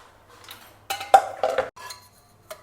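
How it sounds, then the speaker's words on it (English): Lid of a pressure cooker being handled and opened in a home kitchen, a handful of close metallic clanks and clinks spaced irregularly across a few seconds, with no talking. "Next we'll open our pressure cooker"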